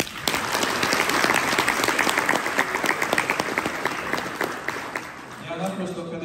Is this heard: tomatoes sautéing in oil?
no